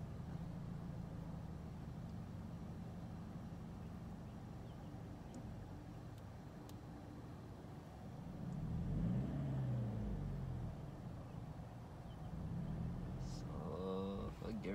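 Manual Scion car pulling away in first gear, a steady low engine drone that swells as it accelerates, heard from inside the cabin with voices talking over it.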